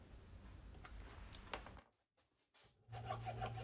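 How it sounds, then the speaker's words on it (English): A hacksaw cuts small protrusions off a Kawasaki motorcycle carburetor held vertically, giving quiet rasping back-and-forth strokes that pause briefly and then resume. "I turn the carburetor vertical to make it easier and saw them off with my hacksaw"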